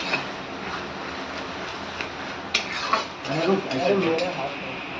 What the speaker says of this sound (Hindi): अब इसको अच्छी तरह भूनते हैं।